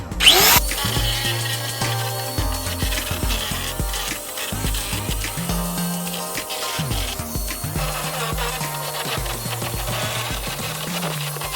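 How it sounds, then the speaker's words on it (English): An angle grinder trims the metal window framework of a VW Crafter van conversion, a loud, close mechanical whine that shifts pitch in stepped bursts as the cut loads and eases, with no talking. "I need to get the angle grinder and just trim those back a bit"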